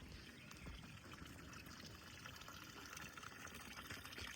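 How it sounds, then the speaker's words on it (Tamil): Mountain spring water runs steadily from a public tap, a continuous splashing trickle and pour heard close and alone throughout. "இது இங்கே ஸ்பெஷல் தண்ணி இது இப்படியே போயிட்டுருக்கும்"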